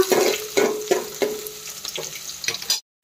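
Chopped onions sizzle in hot oil for Nepali-style chow mein noodles, a steady close frying hiss broken by several sharp stirring bursts before stopping abruptly.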